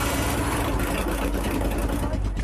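A single four-cylinder engine left running after the other engine failed during a record attempt drones loudly and steadily with a rough, rumbling texture.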